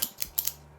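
A cutter clips an LFD Andalusian Bull cigar: two or three quick, crisp snips close up, followed by a low steady hum.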